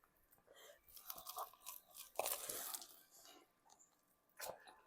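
A bite into a crunchy chicken parmesan sandwich, with crisp crunching bursts and chewing close to the mic, a louder crunch near the middle and another toward the end.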